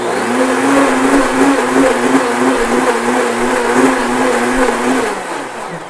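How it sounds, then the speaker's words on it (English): A countertop blender pulses hemp force into bulletproof tea, a loud, steady whirring motor drone with slight wavering pitch that runs continuously and close up before winding down at the end. "Doesn't need to blend too long, so I usually just hit the pulse button on this."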